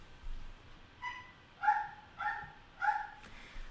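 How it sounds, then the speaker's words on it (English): Wicket, a dog, gives four short barks after a faint yip, spaced about half a second apart at moderate distance, clear against a quiet room. "He's kind of barky right now"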